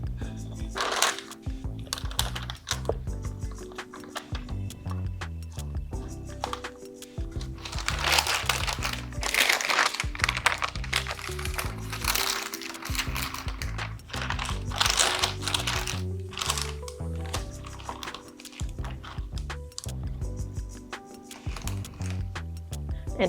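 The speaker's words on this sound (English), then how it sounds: "we're gonna line this with parchment paper" Parchment paper crinkling and rustling as it lines a baking pan for protein pumpkin brownies, busy crackly handling throughout, close, with some talk alongside.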